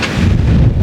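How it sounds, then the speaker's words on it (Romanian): A short, loud, low rumble of thunder during a storm at a beach in Cyprus, heavy and booming throughout a brief burst with no voices. "Ăsta n-a fost un avion, a fost un tunet."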